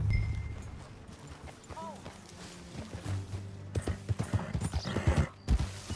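Horse hooves clip-clop while riding in Red Dead Redemption 2, a rhythmic run of close hoofbeats with speech and game sounds mixed in.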